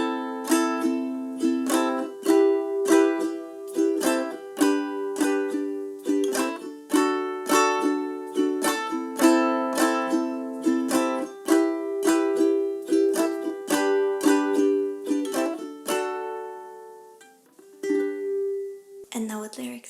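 A ukulele strums the pre-chorus chords of a song with no singing. Steady, bright strums and picked notes ring close and clear in a continuous rhythm, ending with a single down strum.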